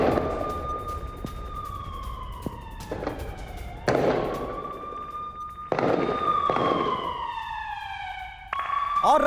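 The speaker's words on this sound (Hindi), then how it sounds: "उसके घर के पास फायरिंग की आवाज आप सुनिए" Gunfire near a Hamas fighter's house in the West Bank: several sharp, loud bursts cut in at uneven intervals over sirens that wail and fall in pitch throughout.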